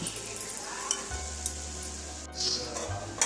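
A dish for the Bonalu festival simmers and sizzles on the stove while a spoon stirs it, giving a soft continuous bubbling hiss with light scraping and an occasional clink against the pot, close up.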